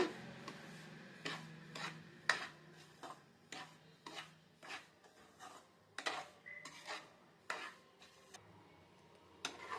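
Semolina (rava) roasting on low heat in ghee in a pan, stirred with a utensil that gives repeated scraping, rubbing strokes and light clinks against the pan, close and steady for the whole stretch, no talking.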